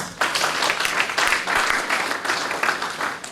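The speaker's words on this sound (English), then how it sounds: "please give God a round of applause" Applause breaks out from the audience at an aviation careers conference, a close, loud and full burst of many hands clapping with slight surges, sustained throughout.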